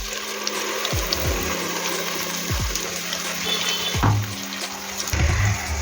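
A pan of tomato puree bubbles and simmers, with soft repeated plopping bursts over a steady hiss; it sounds close, moderately loud and continuous, with no voices.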